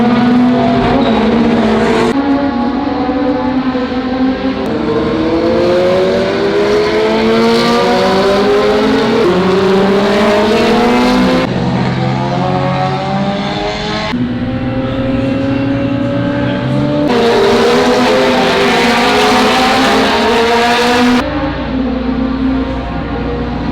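A McLaren Speedtail sports car and other cars lapping a California race circuit, engines loud and close, rising and falling through repeated acceleration sweeps and gear changes, with no talking.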